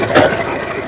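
USHA Wonder Stitch sewing machine stitching cloth, a rapid mechanical ratcheting whir of the needle mechanism running steadily and close for about a second, without talk.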